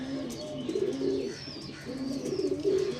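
Madras pigeons coo in repeated soft, throaty phrases, close by, with a few faint chirps in the background and no talking.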